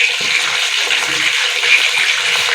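Water pours steadily from a tap over a bowl of cut cauliflower being set to soak, a loud, close, continuous gushing splash with no break.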